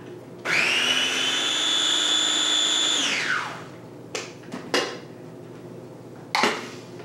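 A bullet blender froths pumpkin spice creamer, whirring loudly and steadily for about three seconds, then winds down, followed by a few brief clinks and knocks.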